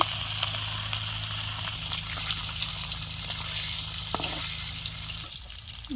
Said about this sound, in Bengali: তেল গরম হয়ে গেছে মাছ দিলাম